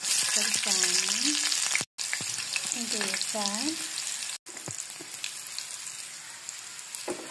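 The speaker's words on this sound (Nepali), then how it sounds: "तेलमा मेथी, सौंफो यसरी हल्का ब्राउन हुँदै यसरी भुट्नुपर्छ।" Fenugreek and fennel seeds fry in hot mustard oil while preparing a sadeko gundruk pickle, giving a steady crackling sizzle throughout under a talking voice, broken by two brief cuts.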